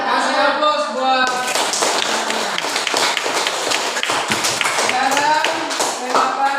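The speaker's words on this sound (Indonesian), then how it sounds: "Kasih aplaus buat." Students in a junior high school classroom break into applause, a dense, loud burst of many hands clapping that lasts several seconds, with a voice briefly audible at the start.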